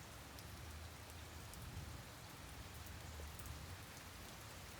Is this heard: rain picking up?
yes